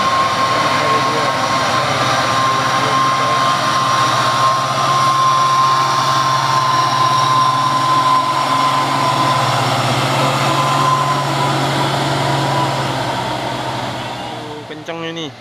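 An Isuzu Giga truck, towing an empty trailer, accelerates hard up a steep hill with a loud, steady, sustained engine drone. It holds at a constant pitch throughout and fades slightly near the end.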